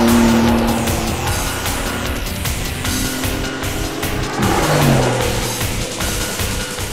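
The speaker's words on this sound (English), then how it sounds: "That car's acceleration is brutal. Jeez, that's some late braking." Supercar on a race track, loud and close, its engine surging under hard acceleration, then tyres squealing as it brakes hard and skids, with the engine pitch dropping away afterward.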